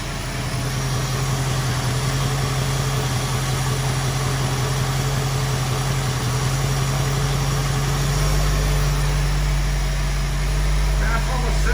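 A 1973 Ford Mustang convertible's engine idles steadily in neutral at around 600–700 RPM, a continuous low rumble that rises slightly near the end as the revs are nudged up.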